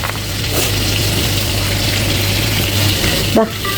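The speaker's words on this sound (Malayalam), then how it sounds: "ആ എണ്ണയും കൂടെ മോൻ ഇതിൻ്റെ മോളിലോട്ട് ഒരു അല്പം അങ്ങോട്ട് ഒഴിച്ചിടാം" Oil poured over a simmering mutton curry gives a steady, close liquid hiss and gush, with a brief clatter near the end.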